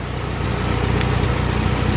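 A turbocharged Honda B18 engine runs on a dyno, producing a loud, steady, throbbing rumble with a continuous low drone and no clear rev rise across the short stretch.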